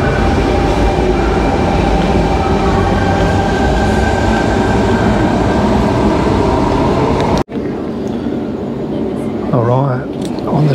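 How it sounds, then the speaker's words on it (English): Loud, continuous rumble and roar of a Sydney train heading toward North Sydney, then an abrupt drop to quieter background with a voice speaking. "Train heading back over to North Sydney."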